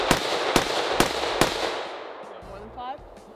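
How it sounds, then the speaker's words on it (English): Four sharp, loud rifle shots ring out from a rifle fitted with a muzzle brake, evenly spaced about half a second apart, each a hard crack followed by a fading outdoor echo, with a brief faint sound trailing at the end. "let's try the muzzle brake now"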